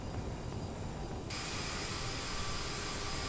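A CRJ7 regional jet taxis out at Frankfurt in Microsoft Flight Simulator, its engines producing a steady, broadband whine and rumble that brightens partway through and holds constant.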